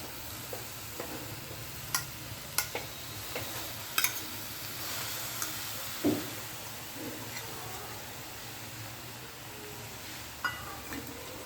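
Chopped spinach frying with onions in a pan hisses softly and steadily while a utensil stirs it, giving faint scattered taps and scrapes against the pan, quiet and close, with no voices.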